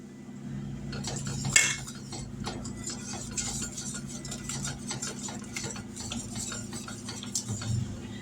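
A whisk stirring coconut into custard pie filling in a pot, steady rapid scraping and ticking strokes against the pan, close and continuous with a few sharper clinks.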